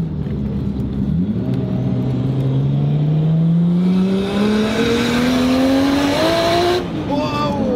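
A big-turbo JDM car accelerates hard, its loud engine note climbing steadily for several seconds before a brief gear-change dip and renewed pull, heard from close inside the cabin.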